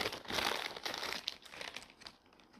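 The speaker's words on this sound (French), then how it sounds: "je remets ça dans sa petite enveloppe" A small paper envelope is handled and closed, giving a steady run of close, loud crinkling and rustling that thins out toward the end, with no talking.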